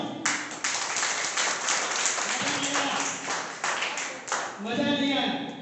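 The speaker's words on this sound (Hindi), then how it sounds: "ताली बजा के सुनाओ" Audience applause at a business seminar in Etawah, India: steady clapping from a crowd, fairly close, broken by short pulses and a voice talking over it toward the end.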